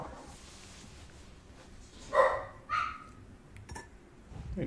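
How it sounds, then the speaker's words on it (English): A dog barks twice in quick succession at moderate distance, short sharp yips standing out over a low, steady room background with no talk. "My dog's barking all the time."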